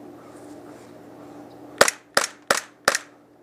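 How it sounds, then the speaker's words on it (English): A KSC Glock 19 gas blowback airsoft pistol fires four sharp, loud cracks in an even rhythm, each shot snapping close by over a faint background hum. "Now it's shooting better."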